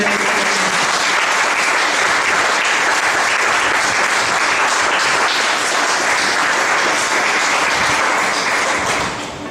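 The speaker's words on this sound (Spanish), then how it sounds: "¿Cuántos le pueden dar un aplauso al Señor?" Loud, sustained congregational applause during a Sunday morning church service, offered in praise to the Lord; thick, even clapping from many hands runs throughout and tapers off only at the very end.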